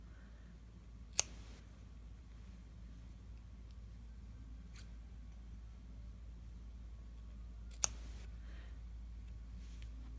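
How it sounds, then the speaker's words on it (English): Scissors snipping yarn close to a knot in a knitting join, two sharp, isolated clicks several seconds apart over a quiet, low background hum. "you're going to take your scissor and you're going to cut very close to the knot"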